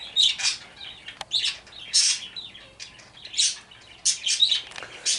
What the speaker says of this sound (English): so my birds are communicating with one another.